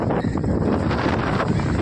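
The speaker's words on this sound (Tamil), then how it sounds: "தாங்க முடியாத காற்று" Strong wind beside a lake buffets the microphone, making a loud, continuous rumbling roar with gusty fluctuations throughout the short stretch.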